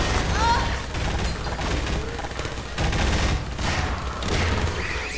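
Turret gunfire in Half-Life 2 rattles in dense, continuous automatic bursts, mixed with game effects and a faint voice.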